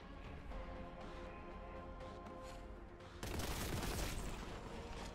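Enemy gunfire erupts in the Warhammer shooter Boltgun, faint tonal background giving way to a sudden burst of loud, dense shooting that continues steadily.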